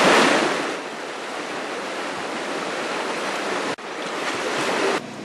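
Mountain stream water flowing over stones, a loud, continuous rushing wash close by, steady apart from a brief cut near the end.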